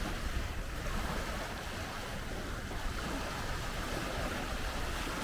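Steady broadband wash of water and wind at the Dead Sea in Jordan, a continuous rushing roar with no distinct breaking crests, fairly close and unbroken throughout.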